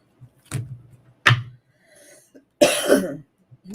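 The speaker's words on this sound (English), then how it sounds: "Excuse me for all the coughing." Several harsh coughs from a person with COPD come in separate bursts, with short pauses between them and a final cluster of rough coughing, close and fairly loud.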